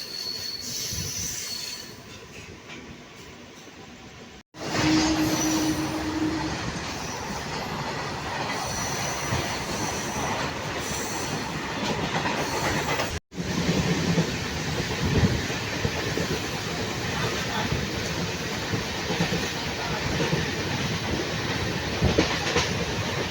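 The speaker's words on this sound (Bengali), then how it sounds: "তো আমাদের ট্রেন ঢুকলো লোহাপুর হল্ট, তার দ্বিতীয় স্টেশন" A MEMU train pulls into Lohapur halt on the Nalhati–Azimganj line, its wheels squealing loudly against the rails with steady rolling clatter, broken by two brief sharp dropouts.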